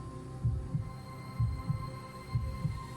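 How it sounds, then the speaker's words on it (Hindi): A heartbeat sound effect thumps in steady lub-dub pairs, three double beats over a low hum, muffled and close. "उसकी धड़कन तेज हो गई।"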